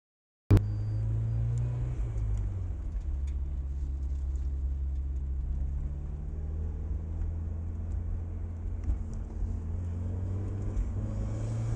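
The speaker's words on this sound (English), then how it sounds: "we are out here in Matt's turbocharged Miata. This is the very first time I'm driving this car" A turbocharged Mazda Miata on a race track, engine droning steadily from inside the car after an abrupt start, a constant low rumble with little change in pitch throughout, no talking.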